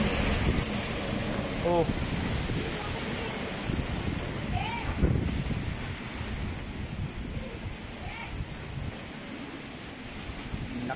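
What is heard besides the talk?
strong wind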